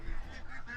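A group of pasture-raised Pekin ducks gives a brief run of nasal quacks and honks, close but fairly soft, in under a second.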